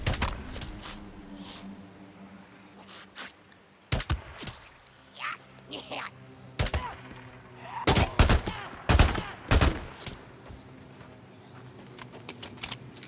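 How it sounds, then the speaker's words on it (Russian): Gunfire in the open-world zombie game Days Gone: several sharp, loud shots in irregular bursts over a murky, low game ambience, with quieter stretches between volleys. "Как они выстрелы не слышат, я удивляюсь."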